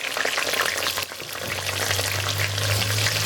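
Loud, crackling sizzle of tomatoes frying in hot oil in a cauldron-style kazan, steady and close, with a low hum underneath.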